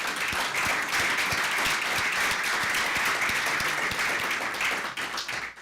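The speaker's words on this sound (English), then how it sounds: "Please join me in giving them a round of applause" Audience applause fills a room after a speech by a U.S. Treasury deputy secretary in Berlin: dense, steady clapping from many hands, loud and sustained throughout before easing slightly at the end.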